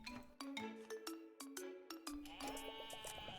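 Sheep bleating in the game Terracards, several quick wavering bleats in a row, followed by a bright chiming jingle, with no talk.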